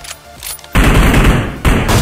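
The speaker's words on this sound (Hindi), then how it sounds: "मैं इस पे शॉट लेता हूँ एंड देखिए आप फिर।" Loud, close bursts of rapid gunfire from the video game BGMI, a fusillade of shots breaking out after a quieter moment, pausing briefly and then resuming.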